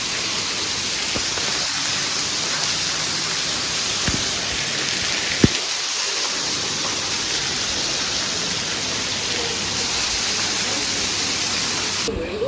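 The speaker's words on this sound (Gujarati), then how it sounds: "હજી વરસાદ ચાલુ છે." Heavy monsoon rain falls steadily in Ahmedabad, a dense continuous hiss of rainfall on surfaces that holds at an even level throughout, with a few sharp clicks and knocks nearby.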